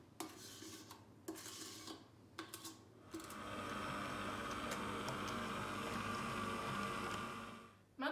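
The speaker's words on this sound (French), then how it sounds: "Je vais pouvoir mélanger les deux préparations délicatement, soit à la maryse, soit au mélangeur délicat." A Cooking Chef kitchen mixer folds a mascarpone mixture for tiramisu. A few short scraping bursts come first, then a steady whirring motor with bowl clatter runs close and continuous for several seconds before stopping.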